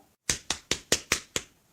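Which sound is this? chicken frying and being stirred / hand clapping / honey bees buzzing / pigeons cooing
hand clapping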